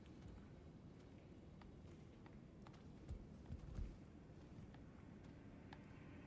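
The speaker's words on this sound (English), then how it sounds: "I can hear footsteps." Footsteps in the game Elden Ring, a few soft thuds clustered in the middle, faint and low under a quiet ambient background.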